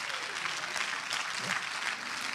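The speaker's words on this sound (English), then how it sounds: "give the Lord a clap of it" A church congregation applauds during a prayer meeting, with dense, steady clapping that fills the whole stretch at an even level, close and sustained, without a pause.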